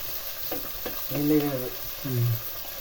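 Mutton frying in oil in a pan: a steady, close sizzle runs throughout, with a couple of brief tonal bursts rising over it.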